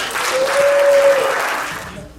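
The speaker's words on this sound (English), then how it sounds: "give yourselves a big applause." An audience at a motivational speech claps together in a brief burst of applause, with a short whistle-like tone partway through, before the clapping fades out.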